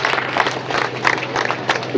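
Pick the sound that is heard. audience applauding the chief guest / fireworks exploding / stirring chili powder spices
audience applauding the chief guest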